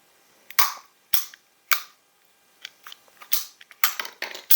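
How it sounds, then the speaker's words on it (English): C.K. T2240 5-in-1 multi cutter ratcheting as its handles are squeezed: three sharp, separate clicks spaced about half a second apart, then a quicker run of smaller clicks and snaps, close and crisp with no voices. "you can start to squeeze the handles. This has got a ratcheting mechanism."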